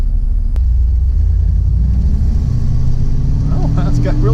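A Bricklin sports car's V8 engine accelerating from inside the cabin, a steady low rumble that rises in pitch toward the end, with people talking over it.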